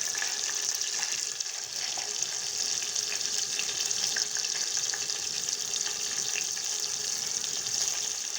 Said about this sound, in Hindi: ये जीरे का तड़का लगाएंगे।